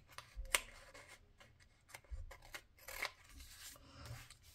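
Scissors snip washi tape for a B6 planner layout, giving several quiet, close crisp cuts and small rustles spaced irregularly.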